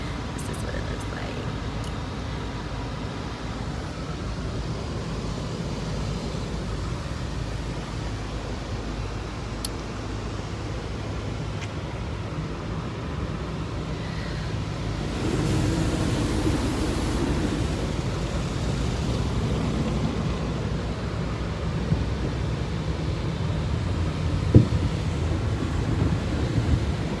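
An automatic car wash running around an enclosed car, a steady rushing wash of spray and blower noise that grows louder and fuller about halfway through.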